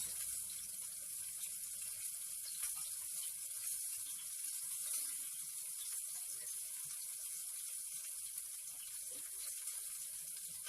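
Hot pasta cooking water from a pot of ricotta tomato ravioli, scooped and poured with a steady watery wash and light clinks, a constant hiss running near and moderately loud throughout with no talk.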